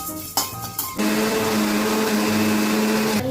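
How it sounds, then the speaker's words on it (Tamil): A mixer grinder grinding fried masala into a smooth paste: brief start-stop pulses, then a loud steady motor whine and whir that runs continuously until it cuts off. "நல்லா மசாலா ஃப்ரை பண்ணி அரைச்சாச்சு, ஸ்மூத் பேஸ்ட்டாக"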